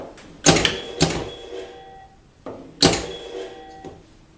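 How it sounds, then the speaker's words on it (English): Sharp electronic pops and clacks from a pinball pop bumper, four bursts with uneven spacing, each fading quickly, heard alone in a quiet room. "Another sound effect occurs when the ball hits the pop bumper."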